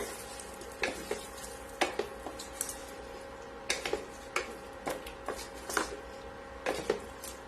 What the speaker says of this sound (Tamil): இப்போ நம்மளோட அவியல்ல இந்த தாளிச்சதை கொட்டிடலாம். நல்லா மிக்ஸ் பண்ணி விட்டுருங்க.